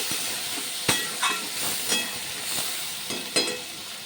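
Onions hit hot oil for Assamese rui fish tenga, hissing and sizzling steadily, with several soft stirring scrapes spaced through the few seconds, with no talking.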